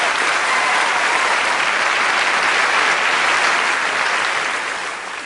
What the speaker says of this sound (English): A round of applause for our 4 volunteers.